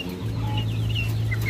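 Unmarked chickens sold at a poultry farm cluck and cheep steadily near at hand, with a low continuous hum behind them and no one talking.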